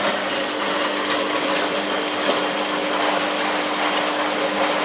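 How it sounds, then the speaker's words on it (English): An old washing machine on its rinse cycle pumps water with a continuous whirring, gushing drone, loud and close, broken by a few faint clicks. "That's on its rinse"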